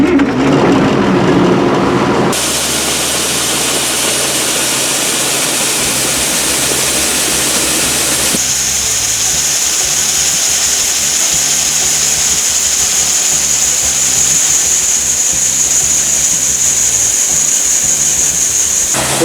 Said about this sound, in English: I got to start my little auger tractor, this little guy.